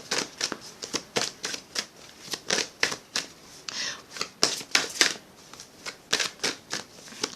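Oracle cards are shuffled and riffled close up in quick, crisp bursts, a steady run of papery flicks and slaps with short pauses between them and no speech.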